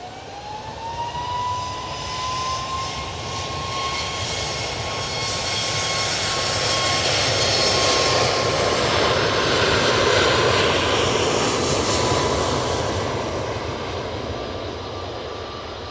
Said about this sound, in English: This 737 MAX 8 is off to Prague.